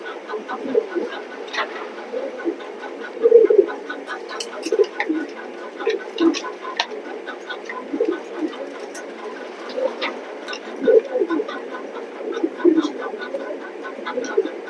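Racing pigeons in a loft give repeated low, throaty coos that come and go every second or two over a steady rustling background. The loft sounds busy and fairly close.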